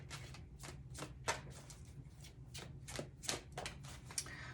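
Tarot cards are shuffled in a rapid series of crisp riffling bursts, about a dozen short flutters over a low steady hum, with no talking.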